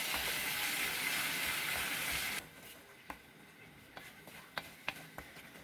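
Four beaten eggs hit a hot rice mixture with a loud, steady sizzle that cuts off suddenly after a couple of seconds, followed by quiet spoon scrapes and light clinks as they are stirred in an egg rice dish.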